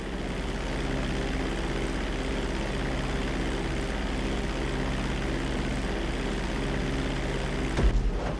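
A propeller airplane cruises along in Grand Theft Auto, a steady engine drone held at even loudness throughout, with a brief swell near the end.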